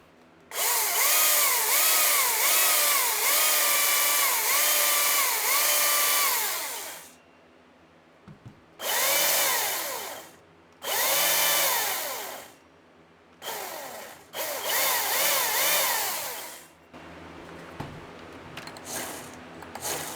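ECHO 2511T micro chainsaw runs loud and close, revving in one long burst and then several shorter bursts with brief pauses between, and nobody talks.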